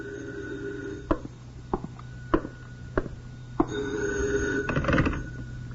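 A telephone bell rings indoors in repeated bursts, punctuated by sharp clicks, at moderate volume and close by, with no one speaking.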